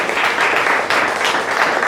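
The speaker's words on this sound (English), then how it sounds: "let's hear an applause if you have had some successes with your business so far" Audience at a wholesale business panel breaks into steady, even applause, a dense crowd clapping that holds for the whole stretch with faint talk underneath.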